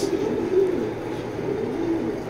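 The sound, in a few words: pigeons cooing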